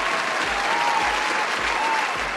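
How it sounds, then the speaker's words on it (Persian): Steady applause from a studio audience at a family quiz show taped for Nowruz, a dense, even wash of clapping at moderate level throughout. "خواهش میکنم تشویق بفرمایید."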